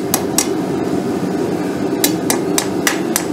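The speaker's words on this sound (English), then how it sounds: "We're just going to hammer this around it to help form an eye." Round steel stock, 3/8 inch, hammered around a bar to form an eye at a blacksmith's forge: sharp ringing hammer blows, two quick strikes then a pause and a steady run of about five more, close and loud.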